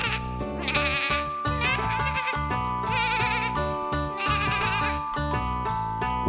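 Sheep bleats sound over an upbeat children's farm song about a farmer shearing a sheep. Several wavering bleats recur above steady, loud instrumental backing.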